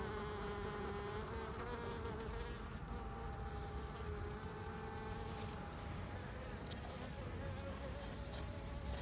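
Honey bees buzz on a queen-rearing frame in a dense, unbroken drone, many wings humming together close by at a steady level throughout.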